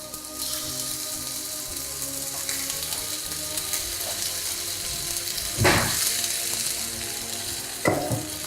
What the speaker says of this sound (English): what I'm going to do firstly is just sear the beef so that it is brown